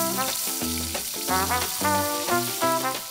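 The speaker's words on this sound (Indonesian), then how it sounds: "setelah Eta tirisin ikan dan langsung tumis bumbunya" Spice paste sautéing in hot oil gives a steady bright sizzle, partly buried under loud tuneful music throughout.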